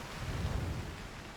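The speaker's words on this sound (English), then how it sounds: "it's raining" Rain falls in the video game Cairn as a dense, steady hiss with a low rumbling undertone. It sounds continuous and fairly soft, with no voices.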